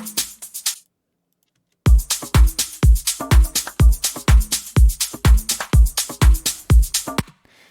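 A punchy electronic drum loop from a remix, beginning with a short fill and then, after a brief gap, a steady pattern of heavy kicks and crisp hits played loud and up close.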